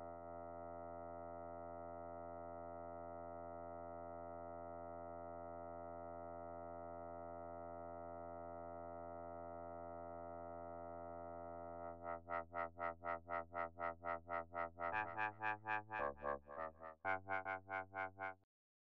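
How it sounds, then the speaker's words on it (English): A sustained synth tone holds steady, then a rapid rhythmic pulsing wobble sets in, the filter opening and closing in quick even beats. "Then we're going to put a sine wave LFO on the filter with the frequency at 1/8 of a beat."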